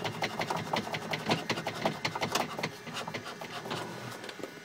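The trim wheel of a light aircraft is turned by hand during a preflight control check, giving a quick, steady run of close, dry ratcheting clicks. It runs for several seconds with no talk over it.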